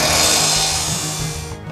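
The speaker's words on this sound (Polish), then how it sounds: "Próbki przygotowywane są także przy pomocy szlifierek kątowych." Angle grinder cutting or smoothing metal welding test samples in a welding training workshop, a loud, steady high-pitched whine that fades out near the end.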